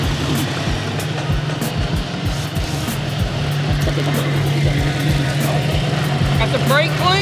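A vehicle engine idles steadily with a low rumbling drone and rapid firing pulses, close and loud, continuous throughout, with speech over it.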